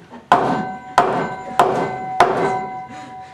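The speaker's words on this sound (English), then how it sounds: "I'm going to beat his phone with this hammer." A hammer strikes a cell phone four times at an even pace, each blow a sharp, close, ringing thwack that fades away before the next.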